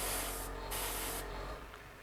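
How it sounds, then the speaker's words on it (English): An airbrush sprays paint at about 30 psi in close, high-pressure bursts, with two strong sprays separated by a brief pause before the hiss fades lower. "I'm spraying about 30 psi, which is high pressure really"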